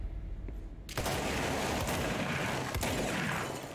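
A sudden burst of gunfire in the video game Control cuts in after a quiet moment, then sustained rapid shots and impacts rumble on loudly through the rest, with no talking.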